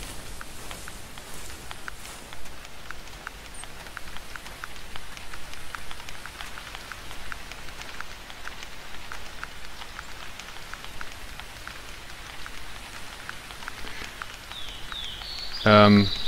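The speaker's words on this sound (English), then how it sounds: "And now it's even starting to rain." Rain starting in the hunting video game The Hunter 2013, a soft constant hiss of falling drops with scattered light taps, moderately loud and unbroken, with a brief louder burst near the end.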